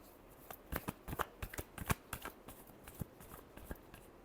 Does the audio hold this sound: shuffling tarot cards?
yes